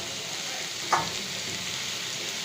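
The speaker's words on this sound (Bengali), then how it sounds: "ভালো করে নাড়াচাড়া করে পটলগুলোকে ভেজে নেব" Pointed gourd frying in oil in a pan, a steady soft sizzle with one brief clack of a spatula near the start, heard close and without speech.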